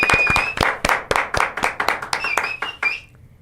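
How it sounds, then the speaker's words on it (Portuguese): Scattered applause from a small audience greets a guest on a Brazilian political talk show, a few loud sharp claps in an uneven rhythm close to the microphone, fading out near the end. "uma salva de palmas para o grande Busnello"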